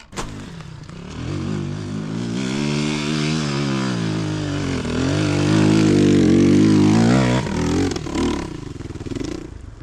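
A Chinese Rottor Bronx 300 enduro motorcycle engine runs at full throttle, close and loud, its buzzing roar rising and wavering in pitch as it is held open for several seconds before briefly dropping.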